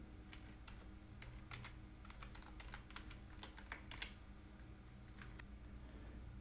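Quiet typing on a computer keyboard, a loose run of soft key taps with irregular rhythm, close but faint against a low steady hum, with no voices.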